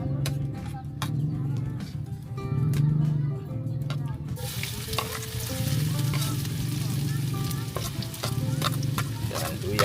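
Sliced ginger sizzles and crackles in a pan during outdoor farm cooking, with steady frying, intermittent stirring clicks, faint voices and birds cooing in the background.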